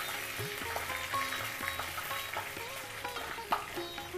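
Chicken pieces frying in a pot for a Bengali pot-roast style Shaheb murgir roast, a steady crackling sizzle with scattered sharper pops and faint utensil clinks, close and fairly quiet, with no talking.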